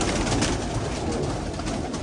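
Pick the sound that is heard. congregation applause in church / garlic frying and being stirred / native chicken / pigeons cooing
pigeons cooing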